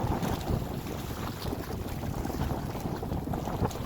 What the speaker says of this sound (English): And the wind dropped a bit, and now it's back up again.